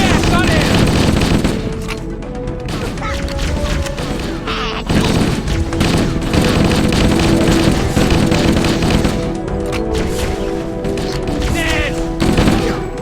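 Gunfire in the video game Halo: Combat Evolved rattles in loud bursts and volleys with crashes and mechanical clanks, almost continuous, while players talk briefly over the shooting.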